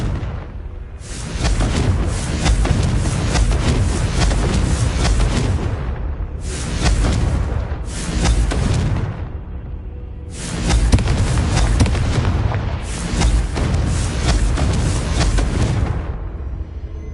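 Blasting-curse explosions from spells cast in Hogwarts Legacy, a series of loud, dense, roaring bursts lasting several seconds each, separated by short pauses, with no talk.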